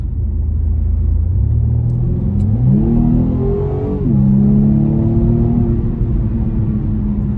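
A 2021 BMW M135i with a 2-litre turbocharged engine accelerating hard, heard loud and close as a steady rumbling drone whose pitch climbs through the revs, dips briefly at a gear change, then pulls on strongly.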